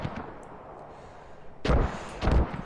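Video game mortar fire shelling an old position, two heavy booming impacts a short way off that rise out of steady low battlefield rumble.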